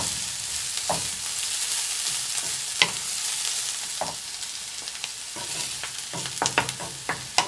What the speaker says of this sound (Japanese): 伏見入れました。 弱火でじっくりじっくり火を入れていきます。